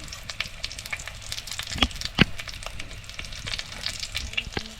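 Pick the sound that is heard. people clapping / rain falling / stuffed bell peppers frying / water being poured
stuffed bell peppers frying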